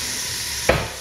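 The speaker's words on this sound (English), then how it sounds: "We just want the onions to be translucent and the peppers to be softened up a little bit." Onions and peppers cooking down in a pan, a steady soft sizzle with one brief louder scrape or stir partway through.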